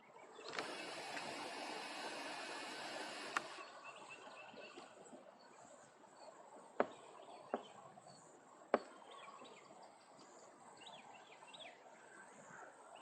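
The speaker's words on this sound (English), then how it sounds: "There's a bird to my left." A single bird calls faintly in the distance of the woods, scattered short chirps over a hushed background, with a few sharp nearby clicks and an early stretch of broadband rustle.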